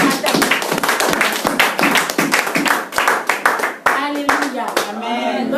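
Church congregation clapping rapidly and cheering in a dense burst of overlapping claps and voices, loud and close, with shouts rising toward the end.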